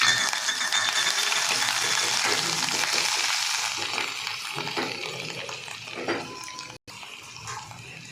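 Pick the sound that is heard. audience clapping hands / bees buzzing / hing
hing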